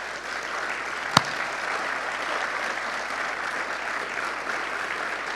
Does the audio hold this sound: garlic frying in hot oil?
no